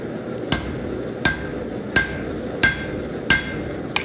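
A blacksmith's hammer rings on hot metal at the anvil while forging a taper: six sharp, evenly spaced strikes, close and loud, each with a bright metallic ring over a steady background hiss.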